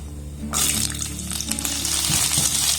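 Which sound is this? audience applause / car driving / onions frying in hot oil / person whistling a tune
onions frying in hot oil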